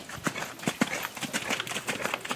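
Horse hoofbeats in a canter during a riding clinic at a farm, with repeated clip-clop strikes landing in a steady rolling rhythm, moderately close and clear, with no talking over them.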